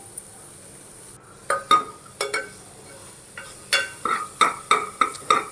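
Sliced onion tipped into hot oil in a pot for a vegetable biryani, then stirred with a utensil that scrapes and clinks against the metal in a quick run of close, sharp strokes over a faint sizzle.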